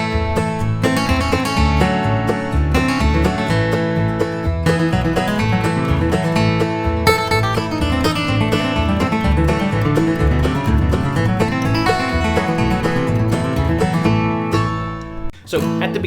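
A bluegrass guitar solo on 9-Pound Hammer built around a borrowed lick, played with a backing band; busy flatpicked runs over steady rhythm, loud and continuous, ending with a brief pause and final strum.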